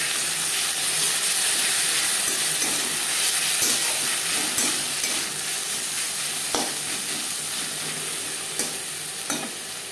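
Ginger and green chili paste stir-fried with chopped onion and slit green chilies in oil, a loud, dense, steady sizzle with occasional spatula scrapes and clinks against the pan, close up and without talking.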